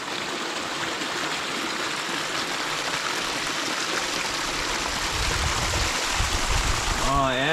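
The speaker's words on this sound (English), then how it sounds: "we're getting some water from the water source here" Stream water rushing steadily in a backcountry creek at Henry W. Coe State Park while it is collected for drinking, a continuous near splashing flow with a brief burble of filling toward the end.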